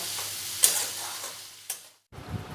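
Yardlong beans frying in oil with turmeric for a Bengali borboti aloo posto, a steady close sizzle broken by two sharp stirring clatters before a brief pause, with no talk.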